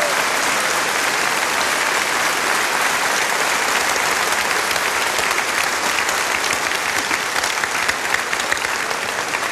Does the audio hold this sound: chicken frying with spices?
no